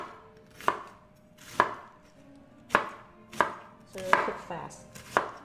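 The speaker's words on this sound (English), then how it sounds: "So I'm going to start with slicing them up" Knife slicing vegetables on a cutting board, with six sharp, separate chops at an unhurried, fairly even pace, close and clear, with brief speech at one point.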